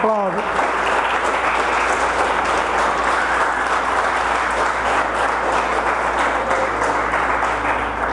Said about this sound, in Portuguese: Aplauda ele, aplauda.